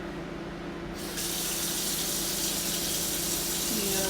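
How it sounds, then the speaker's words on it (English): Water from a kitchen tap pours steadily over a rice cooker lid being washed at the sink, a close, continuous rushing splash that grows slightly fuller partway through. "I'm going to wash the lid."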